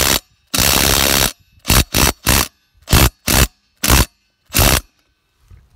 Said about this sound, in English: So I'm tightening back on with the same gun it was.